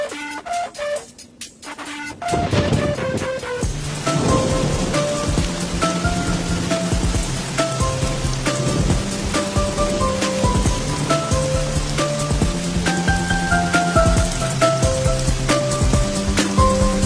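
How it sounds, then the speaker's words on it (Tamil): Heavy rain pours steadily on a surface with rumbles of thunder, while loud music plays over it throughout, following a brief quieter opening. "மழை வரப்போதா?"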